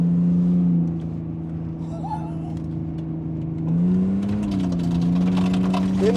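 The engine of a 1954 International farm truck drones steadily nearby, dips briefly, then swells as the driver revs it harder, with a faint whir on top.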